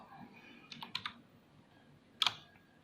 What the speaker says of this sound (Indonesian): Nah, sekarang saya coba ketikkan help.